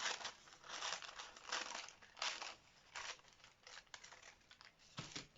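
Scissors cutting fabric for a designer dress, a series of soft, close crunching snips and crinkles, quiet and irregular.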